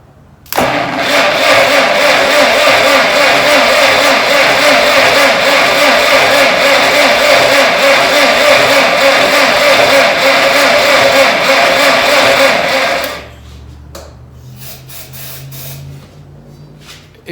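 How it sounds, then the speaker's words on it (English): A Massey Ferguson TO35 tractor is cranked after a shot of starter fluid. A loud, continuous mechanical churning runs for about twelve seconds, then cuts off, leaving faint background noise and small clunks. "We'll give it a little bump of starter fluid."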